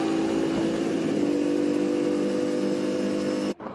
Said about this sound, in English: Listen to it accelerate down the main straight here.